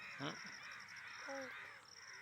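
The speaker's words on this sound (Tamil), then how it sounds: "காக்கா காக்கா, ரெண்டு காக்கா." Two crows caw outdoors around a village, a couple of short harsh calls, faint and somewhat distant.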